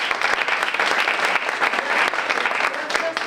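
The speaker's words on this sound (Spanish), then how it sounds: "Un aplauso también para ellos" Audience clapping at a live storytelling event, dense and sustained for several seconds with crowd noise mixed in.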